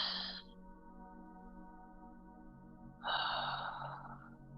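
Deep breathing during a yoga twist: a breath at the start fades out, then after a quiet gap a longer, louder breath follows with a soft airy rush, set over steady background music.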